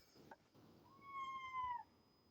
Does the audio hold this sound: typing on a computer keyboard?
no